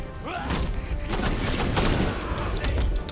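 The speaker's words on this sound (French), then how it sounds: "Faut que je les élimine avec le flingue, ça va plus vite." Bursts of gunfire crackle through the video game Batman Arkham Knight, with rapid repeated shots and thumps layered over game noise at a moderate level.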